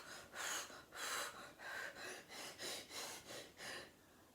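A voice mimics repeated sharp gasping intakes of breath, about eight quick airy pulls in an even rhythm, close and fairly quiet, with no words spoken.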